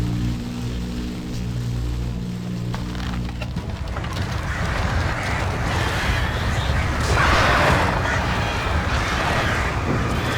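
A large flock of birds in Alan Wake Remastered swarms close in a dense, continuous rush of flapping and fluttering. Sharp cracks and splintering wood break through a droning hum, and the whole mass grows louder toward the end.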